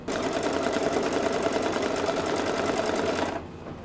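An embroidery machine stitching placement lines for a treat bag casing, a rapid even needle chatter running close and steady before stopping abruptly near the end.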